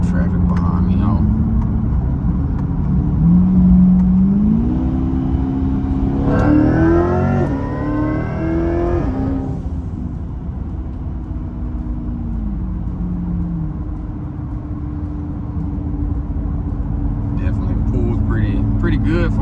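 A twin-turbo Corvette E-Ray on low boost and pump gas pulls hard from inside the cabin, engine note rising through a gear with a sharp whooshing turbo surge midway, then settling to a steady cruise drone.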